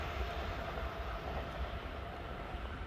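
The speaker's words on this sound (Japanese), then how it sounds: "大阪難波駅のね特急伊勢志摩ライナーがねさっと通過していきましたね" A Kintetsu Ise-Shima Liner limited express train passes through a station, a loud, steady rumbling roar with low rolling wheel noise throughout.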